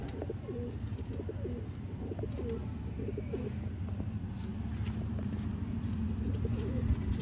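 Sialkoti breed pigeons kept on a rooftop coo in low, repeated rolling calls over a constant dense background of birds, steady and fairly close, with no talk.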